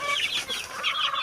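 Chickens cluck close by in quick, chattering bursts, a steady run of short squawky calls lasting about a second.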